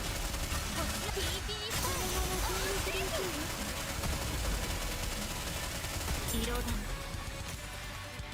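Rapid gunfire from a video game keeps up a constant dense crackle of shots, close and loud, with someone talking over it the whole time.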